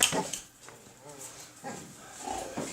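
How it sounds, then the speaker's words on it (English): A Spanish Mastin dog on a Spanish street where many residents keep dogs, making soft, low, intermittent vocal sounds close by while a person speaks over them in a friendly way. "that's a Spanish Mastin"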